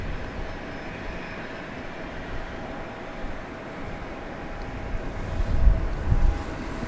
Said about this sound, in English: We do have Southwest Flight 3313 coming in from Ontario, California. On final approach, it's a